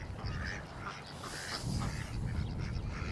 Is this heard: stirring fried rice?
no